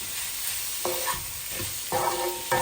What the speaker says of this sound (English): now give it a mix